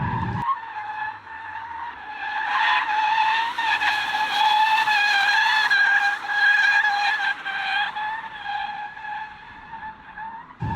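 A BMW i4 electric car slides in sport mode with stability control off, its tyres squealing loudly and continuously in a strong, wavering, high-pitched screech that runs for about eleven seconds with no talking.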